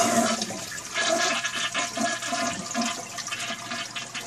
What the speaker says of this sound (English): Just hold down the handle until all the water gets out.